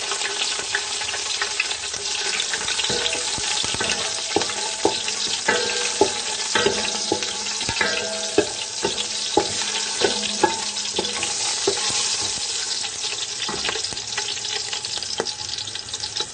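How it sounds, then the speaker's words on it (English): Green chili frying in about two tablespoons of oil, a close, continuous crackling sizzle with frequent sharp pops and occasional stirring clatter throughout. "That's about 2 tablespoons of oil in there. Let's start with the aromatics. I'm going to put in the green chili first."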